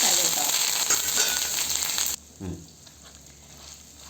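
Curry leaves crackle and sizzle loudly in hot oil with asafoetida as a tempering for mango pickle. The sizzle runs for about two seconds, then cuts off abruptly to a much quieter background with a faint clatter.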